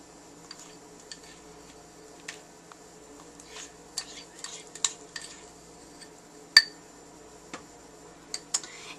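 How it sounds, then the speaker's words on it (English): Melted chocolate being spooned into a large bowl of peanuts and chow mein noodles, with light scattered clinks and taps of a spoon against the bowl, sparse and fairly quiet against a soft steady background hum. "Now, I'm just going to spoon in the melted chocolate."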